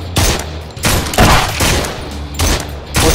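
Bursts of gunfire from the SURV1V3 zombie VR video game, several loud rapid volleys with brief gaps between them, close and dense, no talking over it.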